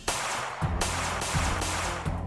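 Gunshot sound effect in a Brazilian news reenactment, three loud, sharp reports spaced about three quarters of a second apart, each followed by a short ringing tail.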